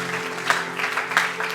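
A church congregation claps in a steady burst of applause, dense and moderately loud throughout the short span, with a couple of sharper claps standing out.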